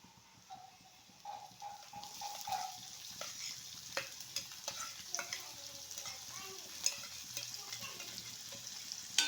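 Chopped cashews and raisins fry with onion in a pan: a continuous soft sizzle broken by frequent sharp clicks and scrapes of stirring that grow busier as it goes.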